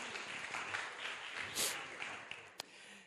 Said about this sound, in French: Vous pouvez l'applaudir parce qu'elle me supporte